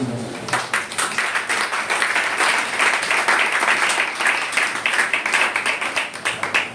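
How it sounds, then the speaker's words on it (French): A church congregation applauds together in a sustained, dense burst of clapping that swells and then thins toward the end, with no voices standing out. "Acclame Jésus-Christ de Nazareth"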